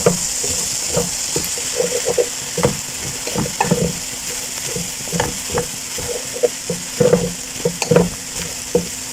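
Rice and vegetables stirred in a frying pan for fried rice, a steady sizzle with scraping spoon strokes clicking irregularly throughout, close and alone without talk.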